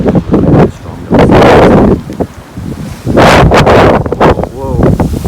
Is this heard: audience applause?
no